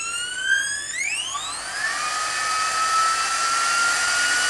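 A GHD Duet Style hair dryer straightener motor spins up with a rising high-pitched whine, then settles into a steady airy whirring hiss at top speed, close and fairly loud with no voices.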